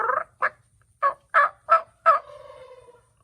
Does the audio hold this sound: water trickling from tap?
no